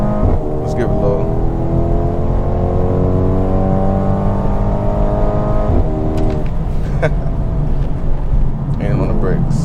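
A 2022 Mercedes GLB35 AMG engine builds revs under acceleration, a loud rising drone from inside the cabin, while a voice talks intermittently over it.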